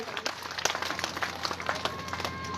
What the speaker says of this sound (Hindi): मैं चाहूंगा जोरदार तालियों से सम्मान करें।